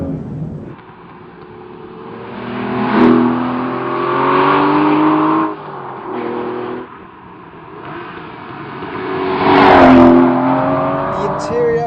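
An Aston Martin with a 6-litre V12 is driven quickly, its engine rising and falling through several loud revving pulls and gear changes, close by, with a voice talking over parts of it.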